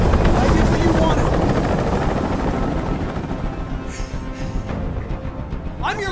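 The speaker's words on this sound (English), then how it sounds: "Tell that helicopter to get out of here" Helicopter from the video game Detroit: Become Human, a loud continuous rotor and engine drone that dominates throughout and eases slightly toward the end, with brief speech heard over it.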